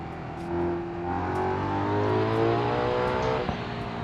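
A car in the driving game BeamNG.drive accelerates with a rising engine drone and turbochargers whining as they spool, a steady, loud mechanical sound with no talking.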